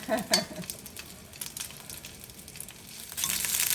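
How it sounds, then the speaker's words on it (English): Soft sizzling and spattering of dumplings frying in a pan, a gentle crackle with a few light clinks, growing slightly louder at the close. "She's boiling and frying at the same time."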